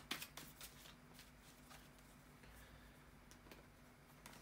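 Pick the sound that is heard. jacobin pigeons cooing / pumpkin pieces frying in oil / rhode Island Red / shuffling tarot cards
shuffling tarot cards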